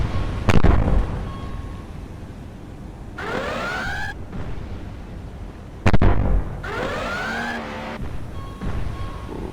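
Two VLS missile launches in a naval combat simulation game, each a sharp blast followed by a rising, whooshing roar that sweeps upward for about a second, spaced a few seconds apart.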